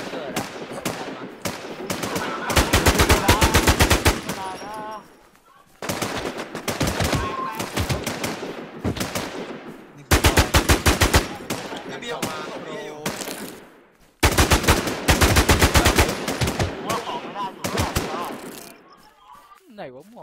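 Long volleys of rapid automatic gunfire from the PVP video game Infestation, loud bursts broken by short pauses over about twenty seconds, with occasional voices between the shooting.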